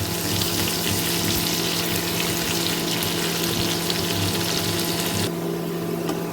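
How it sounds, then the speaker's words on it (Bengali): Chopped onion frying in a pan until lightly coloured, a steady loud sizzle throughout with no talk. "এখন পেঁয়াজটাকে আমি একটু ভেজে নেব একটু হালকা কালার আসা পর্যন্ত"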